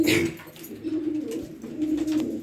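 Pigeons coo up close in a loft, a soft, low, throaty warble repeating in rolling phrases, with a brief rustle at the start.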